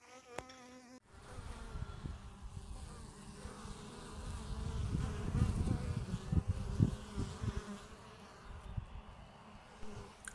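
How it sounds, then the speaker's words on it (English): A low, droning buzz of honeybees flying around, rising and falling as they pass close by, steady and fairly quiet with no talking. "Hungry bees also fly slower in and out of the cubes."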